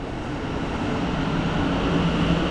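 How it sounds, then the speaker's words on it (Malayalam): A high-speed train in London rushes past with a steady, loud, broadband roar and low rumble that builds slightly toward the end, with no voices. "ഈ ട്രെയിൻ ഭയങ്കര സ്പീഡിലാണ് പോവാ"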